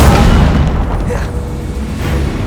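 A fire spell cast in the Hogwarts Legacy video game: a loud, dense burst with a low boom that holds steady across the whole stretch, mixed into game sound.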